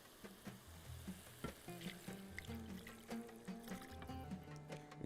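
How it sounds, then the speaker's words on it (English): Water is added to a sizzling pan of Madrooba mixture, giving a faint, steady frying hiss with soft splashing and stirring sounds, and no talking. "Now we're going to add water."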